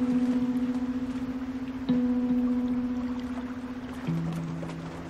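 A fishing boat on open water, its steady low engine hum droning continuously and fairly close, with water wash underneath and a slight shift in pitch partway through.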